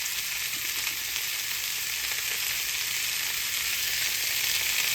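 Potatoes and onions fry in oil in a pan, giving a steady, close, even sizzle with no pauses and no one speaking.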